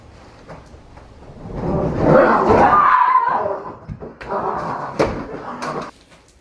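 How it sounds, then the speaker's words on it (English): A sliding door rolls open or shut with a sustained rumbling slide, then a couple of sharper knocks as it settles, fairly close and with no talk. "A slide. Sliding door."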